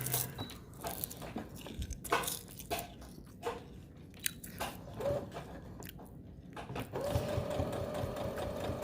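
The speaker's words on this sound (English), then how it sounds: "Just stitch that down both sides." A sewing machine stitches a homemade face mask in uneven bursts of rapid mechanical whirring, stopping and starting close by, then running steadier near the end.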